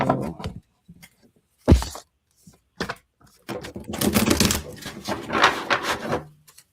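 A deck of playing cards is worked through a Vegas shuffle, starting with scattered taps and thumps before a longer flurry of close, crisp riffling and fluttering card noise.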